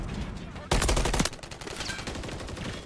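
Gunfire in a Modern Warfare III multiplayer beta match: a loud, dense burst of automatic fire, then quicker, lighter shots and scattered game sounds.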